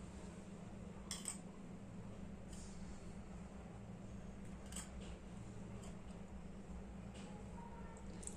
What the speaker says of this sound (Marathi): आणि छान मिक्स करून घ्यायचं।